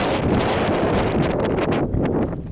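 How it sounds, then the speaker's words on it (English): Strong wind buffets the microphone in loud, continuous rushing gusts with no other sounds. "It's really windy out here."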